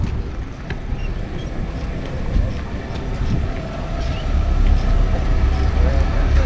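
A tram passing along the Alsancak Kordon waterfront in Izmir, a low rumbling roll that gradually swells louder as it approaches amid outdoor ambience.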